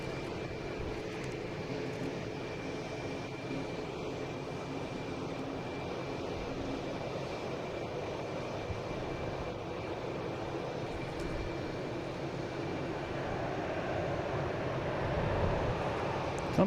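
A Japan Airlines jet coming in to land from Tokyo Narita makes a continuous engine rumble and hiss, moderately distant, swelling slightly louder near the end.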